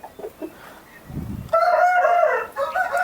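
Peruvidai lineage chickens on a farm, with soft clucks first, then a loud, close rooster crow rising and holding for about a second, followed by a shorter second call.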